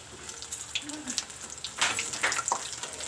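Bok flower fritters frying in a wok, a steady hiss of hot oil with brighter crackling bursts near the end, close and moderately loud, with no talk over it.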